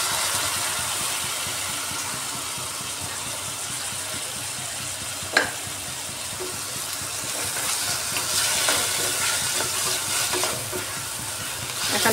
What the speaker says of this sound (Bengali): এবার কেটে রাখা টমেটো দিয়ে দিচ্ছি।